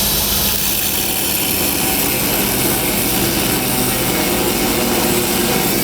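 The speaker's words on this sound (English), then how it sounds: "we had to grind out some of the saddle so we can get the sign to fit" Power grinder cutting away part of a steel saddle to fit a large sign during a night rooftop install, a loud unbroken abrasive whine and roar filling the whole stretch, close up.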